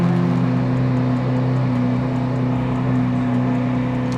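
A sports car engine runs alone at a steady, fairly loud drone, its even hum holding without pause until it cuts off right at the end.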